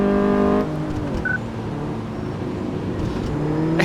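A car in the video game Car Mechanic Simulator 2014 driving and revving, with a steady engine drone whose pitch rises and falls, shifting down partway through, plus a brief electronic beep.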